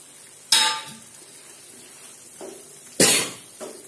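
Soya chunks go into fried masala in a pan, with two sharp, loud bursts of clatter and sizzle as they are dropped in and stirred, then a quieter scrape between them.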